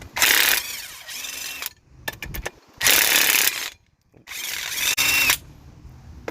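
Bursts of an air impact gun spinning lug bolts off a 2007 GMC Canyon wheel hub, three loud whirring runs separated by short gaps and a few clanks, close by with no talk.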